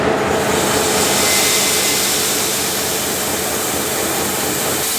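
A farm grain dryer and conveyor run loudly while moving dry corn, giving off a dense, steady mechanical roar and rushing air with no pauses.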